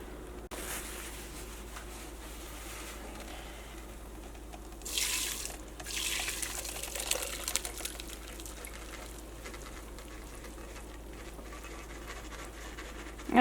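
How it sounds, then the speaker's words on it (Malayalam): Water from 90% cooked rice is poured off into a strainer, a quiet background suddenly broken by a few seconds of rushing, splashing liquid that tapers into trickles and drips. "ഇതിൽ നിന്ന് വെള്ളം ഊറ്റി കളയാൻ വേണ്ടിയിട്ട് പോകട്ടെ"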